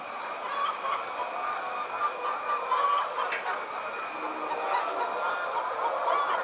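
Many hens cluck and chatter together inside a poultry house holding about 25,000 birds, a dense steady murmur with occasional sharper calls.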